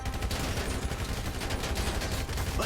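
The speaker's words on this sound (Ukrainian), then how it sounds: "Тут зразу цих відстрілюємо їм вікна" Gunfire in Grand Theft Auto V while shooting out car windows, a dense, continuous rattle of rapid shots filling the whole moment loudly with no pauses.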